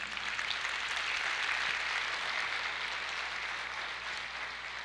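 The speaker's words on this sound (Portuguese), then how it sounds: "Pode aplaudir ao Senhor." A church congregation claps during a service, a steady, moderately distant wash of applause that holds evenly for a few seconds before easing off.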